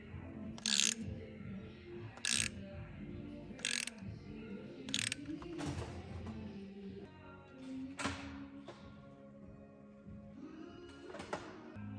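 Bolts being tightened on a diesel engine head during a head gasket job: a handful of sharp ratchet clicks spaced a second or two apart over low clanking and workshop rumble, close by, with no speech.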